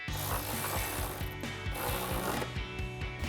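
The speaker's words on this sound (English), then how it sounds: "I'm going to grab my ratchet and a shallow 13mm, tighten that down" A ratchet with a shallow 13mm socket tightens a bolt on Barricade rocker armor fitted to a 2021-2025 Ford Bronco. Close, steady metallic clicking repeats in quick strokes throughout, with no talk.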